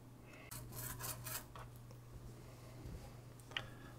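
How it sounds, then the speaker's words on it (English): A cloth rag rubbed over the back of a Commodore C128 circuit board being cleaned during a refurb, a few short rasping wipes early on, then quieter scraping and a sharp tick near the end, close and fairly faint. "take a rag like this, put it over the same spot, and rub it again"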